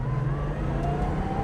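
A 1965 Porsche pulls away in first gear, its engine droning steadily and loud from close by, with a low rumble held throughout and no break in the sound.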